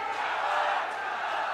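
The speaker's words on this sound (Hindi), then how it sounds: "जोरदार तालियां बजा के उनका स्वागत करें, अभिनंदन करें।" A large crowd at a public rally for Amit Shah in Kota, Rajasthan, roars with steady, dense cheering and clapping that stays loud and unbroken throughout.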